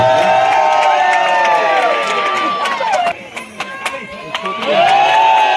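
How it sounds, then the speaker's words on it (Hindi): A crowd at an Indian engagement ceremony cheers and whoops loudly, with shouts rising and falling and a few scattered claps toward the end. "जोरदार तालियों से स्वागत करेंगे।"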